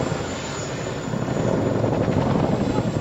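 A twin-engine aircraft performs a flying display near Waddington, climbing and turning, its engines producing a steady, loud, broad roar that swells slightly partway through.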